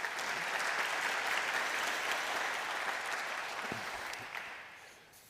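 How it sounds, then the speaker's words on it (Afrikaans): A church congregation at a Reformation Day communion service gives a round of applause, a dense, even wash of clapping that fades toward the end. "Kom ons gee vir hulle almal 'n hande klap."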